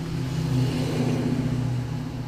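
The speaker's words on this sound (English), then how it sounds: "Goddamn diesel trucks." A diesel truck passes on the road nearby, a loud low engine rumble that swells and holds steady for a couple of seconds before easing slightly.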